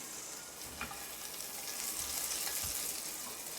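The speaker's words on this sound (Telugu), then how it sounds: "చూడండి మన గార్లిక్ మంచి బ్రౌన్ కలర్లో నీట్గా ఫ్రై అయిపోయింది" A tablespoon of garlic sizzles in fully melted butter in a pan for creamy garlic chicken, a steady, close, bright frying hiss with a few soft stirring clicks and no talk.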